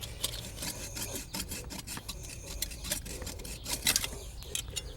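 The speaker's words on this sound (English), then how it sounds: "we're going to have to do some sawing in very close quarters" Rasping back-and-forth sawing through plumbing at an outdoor spigot in cramped quarters, a close, uneven run of short strokes with no talk.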